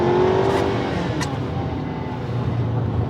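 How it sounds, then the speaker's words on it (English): A Ford Maverick pickup with a 2-liter EcoBoost engine pulls hard under acceleration, its steady engine drone close and loud for about three seconds with a rising tone early on. "Let's give it a little power and see how the 2-liter EcoBoost does"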